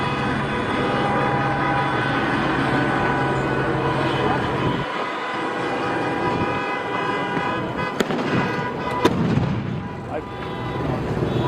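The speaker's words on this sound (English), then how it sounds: "Sounds like a lot of horns and stuff now." Many car horns sounding outdoors on a Saturday night in Los Angeles, a dense continuous din of overlapping honks with sharp bangs near the end, moderately loud and steady throughout.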